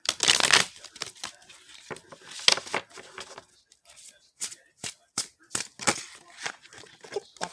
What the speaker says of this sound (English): I try to shuffle 3 times before I pull.